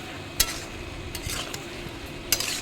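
Shrimp dropped into softened ridge gourd in a frying pan give a steady low sizzle, with a few sharp clinks of a utensil stirring and scraping at spaced moments.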